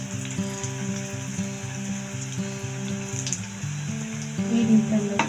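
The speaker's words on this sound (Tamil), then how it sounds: "இப்போ நம்ம செஞ்சு வச்சுருக்கிற பொட்டேட்டோ பாலை ஒன்றா போட்டு பொரிச்செடுக்க போகிறோம்." Potato cheese balls deep-frying together in hot oil over a medium flame, a steady close sizzle with fine crackling that swells louder near the end, no voices.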